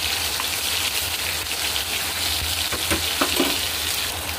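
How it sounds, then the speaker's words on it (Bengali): Chicken pieces fry in hot oil with a dense, continuous crackling sizzle, fairly loud and close. Scattered pops and a few stirring clatters sound near the end, with no voices. "এরকমভাবেই আমি সবকটা চিকেন ভেজে নেব"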